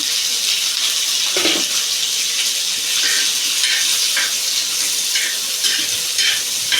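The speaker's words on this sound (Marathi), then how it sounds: "पहिले कांदे भाजून घेऊया थोडं तेल टाकूया" Onions frying in oil in a pan for a green-pea amti, a steady close hiss of sizzling with a few brief spatters and no talk.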